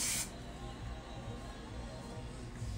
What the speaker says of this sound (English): You just spray it on, and it just calms.